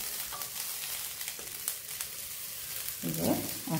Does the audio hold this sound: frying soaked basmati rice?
yes